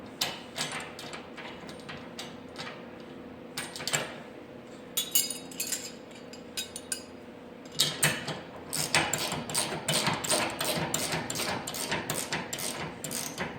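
Fittings on a wall or rack mount landmine being tightened, producing quick ratcheting clicks and metallic rattles in bursts, with a busier, denser run of clicking toward the end, close and moderately quiet, with no voices.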